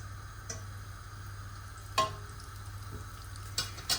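Sfenj dough frying one piece at a time in a deep fryer, a soft continuous sizzle with a low hum beneath and a few faint clicks and knocks.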